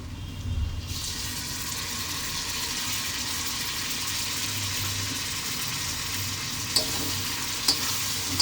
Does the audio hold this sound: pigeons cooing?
no